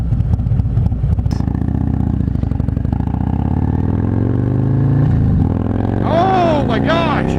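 Harley-Davidson Milwaukee-Eight 114 motorcycle engine with an S&S 475 cam, loud and close, climbing from a rough idle into a sustained rev at partial throttle, then dropping back with a few rising blips.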